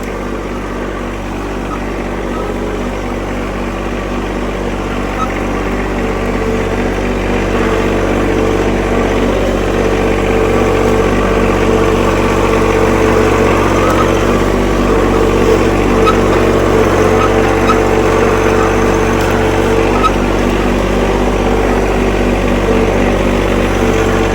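A mini tractor engine runs steadily and loudly throughout on a forest plot, a continuous low rumble with no pauses.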